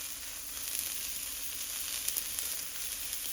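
Vegetables sizzle steadily in oil in a pan, a bright continuous fry with faint crackles and small pops throughout, no voices.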